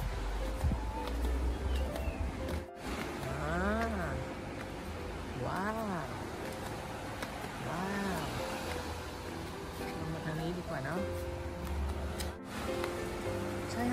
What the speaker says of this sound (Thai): ได้ยินเสียงทะเลหรือยังคะเนี่ย